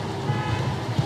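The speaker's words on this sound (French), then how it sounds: "Il y a un problème de klaxon" A car horn on a French-registered vehicle with a faulty horn, sounding as a steady, loud, close blare over road noise for about a second.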